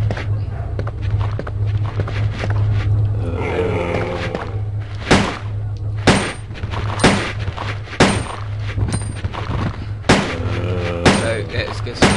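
Gunshots in the video game Resident Evil 2, a string of sharp, loud individual shots spaced unevenly, some a second or two apart, over a low droning game background.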